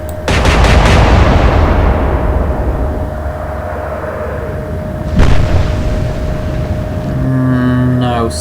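Loud naval gun salvo from warships in the Atlantic Fleet game pitting the Royal Navy against the Kriegsmarine: a big opening boom with a long rumbling decay, then a second sharp shot around five seconds in, with a steady tone throughout.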